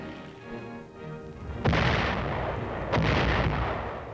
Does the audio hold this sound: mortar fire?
yes